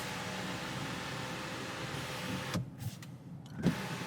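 An electric motor whirs as the sunroof slides back on a 2024 Buick Envista Avenir, a soft hum under steady cabin air noise that stops abruptly, followed by a brief click and a second short whir.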